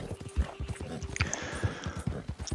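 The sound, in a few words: horse hooves from video game Red Dead Redemption 2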